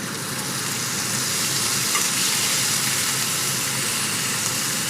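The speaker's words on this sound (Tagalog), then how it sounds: "Dito kayo mag-ingat kayo kasi nakalsik talaga yan" Tuna frying with chili in a pan sizzles and spatters continuously, a dense, even hiss heard close by with no voices over it.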